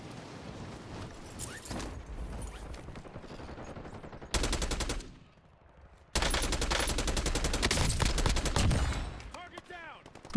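Rapid bursts of AK rifle fire in an online shooter game, loud and close, in long continuous strings broken by a short lull, with a voice speaking partway through.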